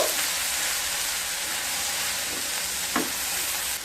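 Turmeric and chili powder spices sizzle steadily in a pan with a little water while being sautéed, a continuous close frying hiss with a brief scrape near the end.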